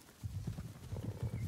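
Horses trot with rapid clip-clopping hooves drawing near across open ground in Ghost of Tsushima, a fairly quiet, steady patter over low ambient sound.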